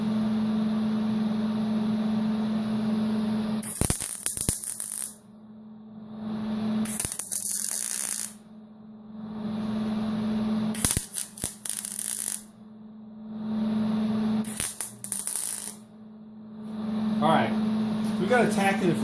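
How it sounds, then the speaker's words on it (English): Four short bursts of tack welding on metal, each a loud crackling hiss lasting about a second, separated by quieter pauses filled with a steady electrical hum. "we're going to tack weld that up"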